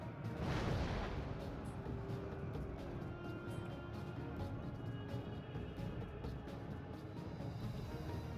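Mortar and bombard fire in the Attila 1212 mod battle game, heard as a loud deep boom near the start, then a sustained low rumble of distant artillery with scattered sharp cracks throughout.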